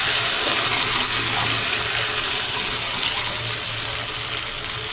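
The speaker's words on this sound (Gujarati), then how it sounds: "હવે આપણે તેને રસાવાળું કરવા તેમાં પાણી નાખી દઈશું." Water poured steadily into a pan of brinjal curry, a continuous rushing splash lasting the whole stretch with a low hum beneath, close and fairly loud.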